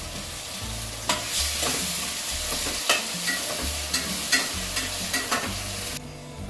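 Curd added to biryani masala frying in a pan and stirred, a steady loud sizzle with repeated scraping strokes of a spoon, close up with no voices.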